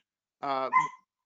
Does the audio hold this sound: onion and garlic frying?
no